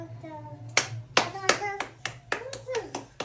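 Hands clap in quick bursts during a family wheel game at home, several sharp claps in an uneven rhythm, close and fairly loud, with voices talking and exclaiming alongside.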